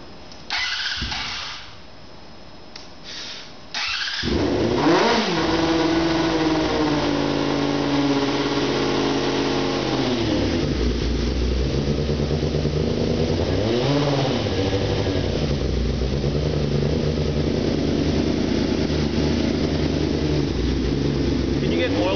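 A 2011 car engine with a leaking radiator inlet hose cranks and catches, then runs at a steady fast idle with a couple of throttle rises. Brief noises come before the start and voices talk over the running engine.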